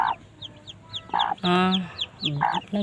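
Hen clucking and squawking nearby in a short series of sharp, irregular calls with brief pauses between them.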